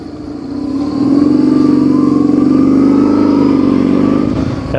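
A BMW R1100GS boxer-twin motorcycle engine, fitted with a dry clutch, revs up from idle, holds a loud, steady throbbing drone for several seconds, then eases off, recorded close with no voices.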